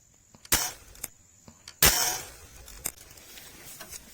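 Sharp air gun shots fired outdoors while hunting doves and pigeons, two distinct cracks a little over a second apart with faint clicks between, loud and near in otherwise quiet surroundings.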